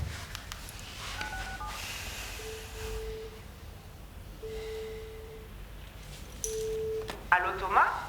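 A telephone on speakerphone dials out with a few separate tone beeps spaced a second or two apart over a soft room background, ending with a brighter burst of tones.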